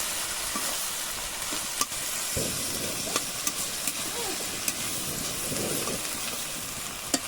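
Onions frying in a pan for ulli theeyal, a close, steady sizzle and hiss with occasional soft stirring scrapes and light taps, no talking.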